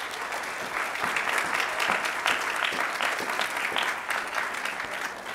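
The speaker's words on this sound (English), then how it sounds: "Let's give Freddie a round of applause" Steady applause from a church congregation honoring a graduate during a Baptist service, a dense continuous patter of many hands at even loudness throughout, with no talk over it.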